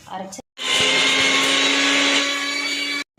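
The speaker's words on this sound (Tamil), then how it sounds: "பெரிய வெங்காயம், கிராம்பு, பட்டை. ஓகேங்களா? பிரியாணிக்கு தேவையான மசாலா இது மட்டும்தான், வேறு எதுவுமே இல்லை. இதை நம்ம அரைச்சிடலாம்." A kitchen mixer grinder grinds biryani masala of large onion, clove and cinnamon in one loud, roaring burst of about two and a half seconds that starts and cuts off abruptly.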